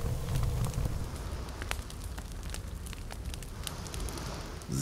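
A campfire with fish laid directly in the flames burns in The Forest video game, giving a steady, soft crackle with scattered sharp pops over a low rushing hiss.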